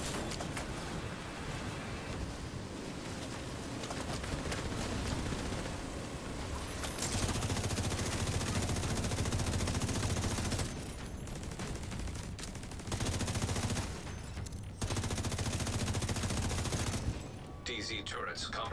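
Bursts of gunfire in the video game Warlords of New York, long stretches of rapid shots rising and falling over a constant noisy game bed, with talking mixed in at times.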